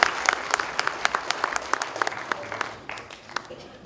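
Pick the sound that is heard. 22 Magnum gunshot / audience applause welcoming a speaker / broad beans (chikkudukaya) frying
audience applause welcoming a speaker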